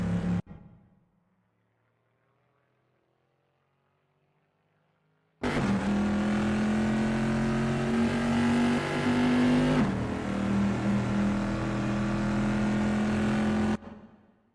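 A vintage pre-1973 race car in the Assetto Corsa racing game roars at Imola through Rivazza. The engine note is loud and sustained, with a brief drop and gear change midway before it cuts off.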